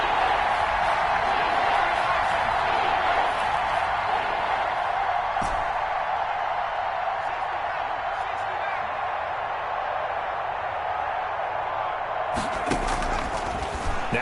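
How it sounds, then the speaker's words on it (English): A stadium crowd in a football video game rises during a tense late fourth-quarter third down: a steady, loud wash of roaring cheers, with a couple of sharp thuds breaking through near the middle and the end. "The crowd getting into it as we come up on a big 3rd down."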